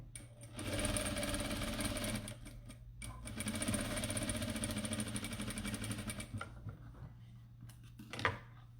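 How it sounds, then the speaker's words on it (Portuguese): Sewing machine stitching a patchwork placemat with continuous motor whir and rapid needle clatter, running in two long bursts with a brief pause, then stopping near the end with a few handling clicks; no talking. "eu vou costurar mais um aqui pra gente ter mais um"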